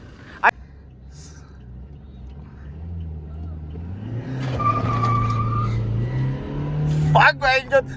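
A Toyota Innova Crysta pulls away in a drag race against an MG Hector, its engine note climbing steadily from low to a strained rev before easing off, with a brief squeal and muffled talk near the end.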